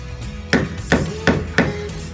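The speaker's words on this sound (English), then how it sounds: "Hammer, and you just pound down in the middle" Four sharp hammer blows while fixing an older clothes dryer strike at a steady pace, each a crisp ringing knock, close and clear over a quiet background.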